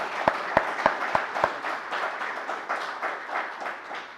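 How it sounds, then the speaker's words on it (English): Audience applause at a public lecture on clean energy trends, with a few sharp nearby claps at the start giving way to steadier, softer clapping from the room. "kindly give them a warm round of applause."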